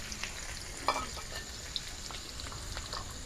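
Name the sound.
onions frying in white oil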